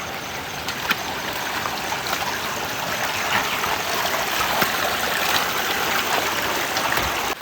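Rushing water from waterfalls and streams along the Harihar fort trek makes a steady, loud, broadband roar that holds constant throughout, with no voices.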